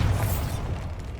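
A Bombarda blasting spell explodes in the game Hogwarts Legacy, a single loud, deep boom that rumbles and fades over about a second, with no voices.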